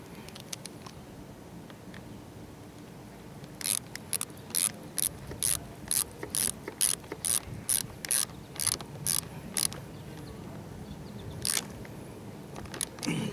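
A ratchet clicks in quick bursts while tightening the negative battery terminal on a 2000-2007 Ford Taurus or Mercury Sable, short rapid strokes repeating for several seconds after a quiet start, close and clear with no voices.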